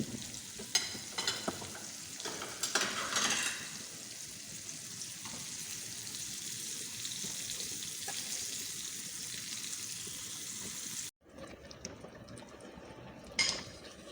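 Sweet and sour sauce sizzles and is stirred in a pan, a steady frying hiss with scraping strokes that are louder early on. After a sharp cut, the sizzle returns more quietly with one last clink near the end.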